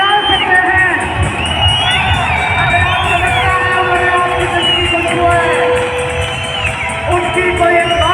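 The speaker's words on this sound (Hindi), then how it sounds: "आप चिल्ला सकते हैं।" A large audience at a 24th anniversary celebration shouts, whoops and cheers together in a loud, sustained roar that stays dense and continuous throughout, with excited voices rising over the crowd noise.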